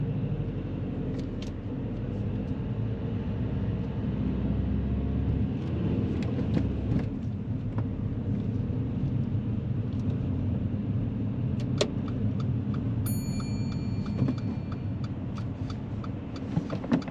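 A manual Toyota car drives on a road, its steady low engine and road rumble running continuously and close, with a few faint clicks and brief high tones over the drone.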